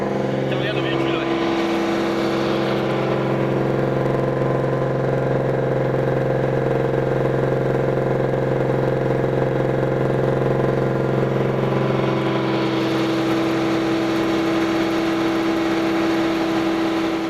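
An armored military vehicle idles during a military exercise in a field, with a steady, loud, close engine drone and a low rumble that holds unbroken throughout.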